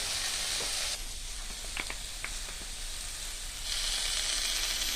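Steady hissing sizzle of spices with ground cumin frying in oil, dipping quieter in the middle with a few faint clicks before the hiss returns strongly.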